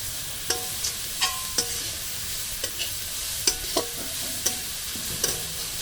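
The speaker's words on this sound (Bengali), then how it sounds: "একটু জাস্ট নাড়াচাড়া করে নেবো" Veg momo filling is stirred and fried in a pan: an even sizzle runs throughout beneath repeated crisp spatula knocks and scrapes against the pan, close and clear.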